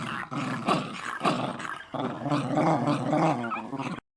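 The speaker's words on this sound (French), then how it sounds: "ils grognent très fort" Dogs growl low and loud in long, overlapping snarls, rising and falling with brief pauses, close up.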